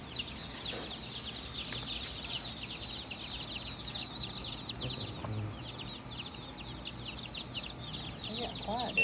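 Meat chickens cluck in a steady chorus of repeated clucks at moderate distance, with low background rumble and no clear talk.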